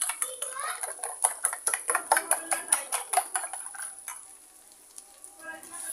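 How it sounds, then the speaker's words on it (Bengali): Food for chicken noodles fries in a pan with a steady sizzle under rapid, rhythmic utensil scraping and clinking against the metal, loud and close, the stirring easing off toward the end while the frying hiss continues. "দুই মিনিটের মতো ভেজে নিব"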